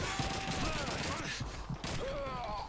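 Pump-action shotgun blasts in the World War II shooter Call of Duty 2, a few sharp bursts amid continuous battle din, with someone talking and exclaiming over the gunfire.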